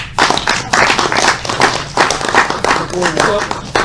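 Audience clapping after a talk on alternative views of renewable electricity, a steady burst of applause from a room full of people, close and fairly loud throughout, with a voice briefly heard near the end.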